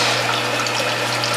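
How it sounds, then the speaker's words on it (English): Fresh garden vegetable juice made with cucumbers, kale and French sorrel pours into a collection bowl, a loud, continuous liquid splashing that runs unbroken from start to finish. "very carefully pour this juice into the collection bowl"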